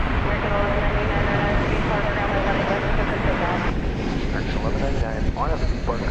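An American Airlines Airbus A321, flight 3239 bound for Philadelphia, roars steadily at DFW Airport, a loud continuous jet rumble with wind buffeting the microphone and voices talking over it throughout.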